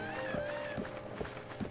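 Rhythmic clip-clop of a horse's hooves at a light trot in the video game The Legend of Zelda: Breath of the Wild, about two beats per second, over a steady ambient hum with no voices.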